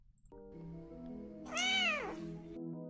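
A single drawn-out cat meow played as a stream sound effect, rising and falling in pitch, alone over a faint steady hum.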